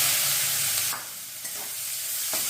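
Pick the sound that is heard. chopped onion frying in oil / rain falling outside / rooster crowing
chopped onion frying in oil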